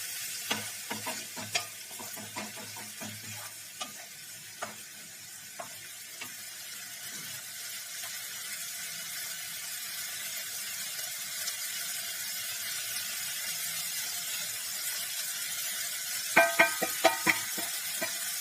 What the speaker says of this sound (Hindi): और अब हम इसको मिक्स करके ऑयल सेपरेट होने तक इसको पकाएंगे